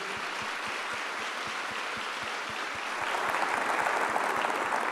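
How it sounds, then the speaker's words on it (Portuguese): Audience applause at a church talk, a steady patter of many hands clapping that swells slightly louder toward the end, heard from a moderate distance. "Pode aplaudir."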